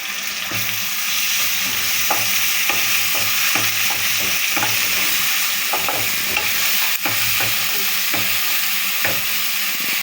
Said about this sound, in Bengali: পেঁয়াজটা হালকা হালকা একটু ভাজা ভাজা হয়ে এসছে এখন আমি দিয়ে দেব এক চামচ আদা বাটা এবং এক চামচ রসুন বাটা